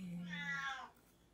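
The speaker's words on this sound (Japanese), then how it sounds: "今鳴き声をが聞こえてるのは 福ちゃんという サビ猫です" A cat lets out one drawn-out meow, fairly faint, over a low steady hum that fades as the meow ends.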